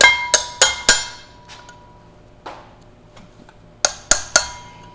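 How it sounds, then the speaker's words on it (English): Sharp metallic taps of a pry bar working a seal out of a Land Cruiser rotor, three quick clinks, a few faint knocks, then three more ringing strikes, close and clear. "I'm just going to stick a pry bar right there under that seal."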